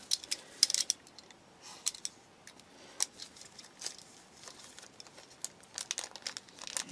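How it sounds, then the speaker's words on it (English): Double-sided sticky tape from a Tamiya 1/12 scale Rossi riding set model kit being handled, giving faint, close crinkles and sharp little ticks in scattered bursts over a quiet background. "What they give us is, where have you gone? There you are. Double-sided, sticky, tapey type thing."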